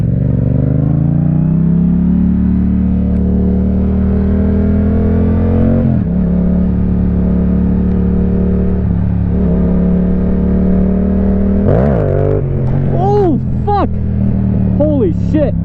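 A Yamaha R7 motorcycle engine runs steadily at a loud idle-like drone, then rises and falls in several sharp revs toward the end, close to the rider.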